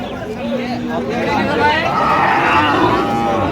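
Cattle moo repeatedly at a busy cattle market, the drawn-out lowing calls rising over a dense crowd chatter and babble of voices, loud and continuous throughout.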